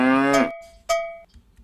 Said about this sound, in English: trying to introduce the moo-bell, or in some cases the interrupting cow